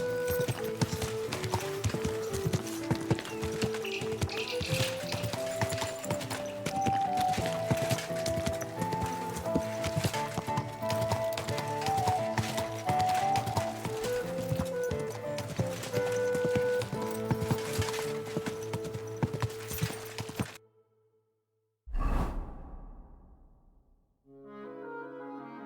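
Horse hooves clip-clop steadily under a musical score while riding in Kingdom Come: Deliverance II, continuing for about twenty seconds before a brief break and a short burst near the end; a voice speaks briefly.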